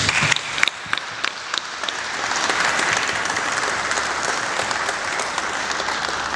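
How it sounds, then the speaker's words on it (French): Sustained applause from mourners at a funeral ceremony, a dense, even wash of clapping lasting several seconds with a few sharper individual claps near the start. "merci Michel, merci d'avoir applaudi pour lui."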